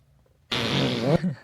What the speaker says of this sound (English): She's farted right now, too. Did you hear that?